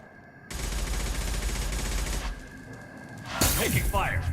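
Gunfire in the video game Mass Effect 2: a loud sustained burst of rapid shots and crackling impacts, followed by a sharp blast with whooshing effects, against game background sound.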